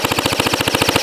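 An MP40 gel blaster running on an 11.1V LiPo fires full auto in a rapid, evenly spaced stream of sharp mechanical clacks, about fourteen per second, loud and close for roughly a second.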